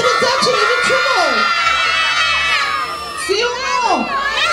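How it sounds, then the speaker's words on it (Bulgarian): Crowd of children shouting loudly together at a village Christmas celebration in Gorski Izvor, a sustained chorus of excited voices with whoops and rising calls throughout, close and dense. "Силно викайте деца, че не ви чувал!"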